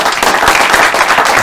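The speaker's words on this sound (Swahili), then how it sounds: "Wapi makofi ya Dr. Stan?" An audience applauding Dr. Stanley Mwenda, a dense burst of clapping from a crowd that holds steady throughout.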